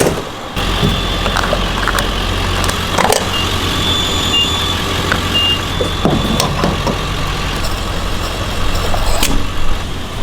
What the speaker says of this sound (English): we gotta definitely leave the diesel running while we fill up